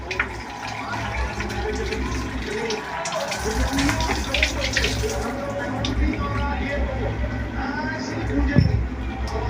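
Water runs from a tap over clams being washed in a sink, a steady, close gush with splashing as the shells are handled. A person talks over it.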